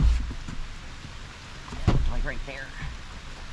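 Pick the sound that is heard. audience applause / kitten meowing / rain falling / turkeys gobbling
rain falling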